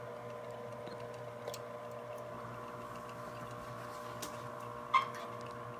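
A steady low mechanical hum with a faint whirring tone from a pump running in an Innovative Marine Nuvo Concept Abyss aquarium, constant and fairly quiet, with a couple of small clicks and one brief knock near the end.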